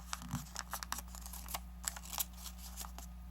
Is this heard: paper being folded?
yes